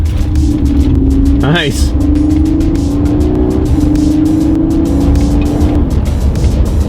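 A 2013 Honda Crosstour out on a road test, its engine and tire noise droning steadily close by for several seconds while someone speaks briefly over it.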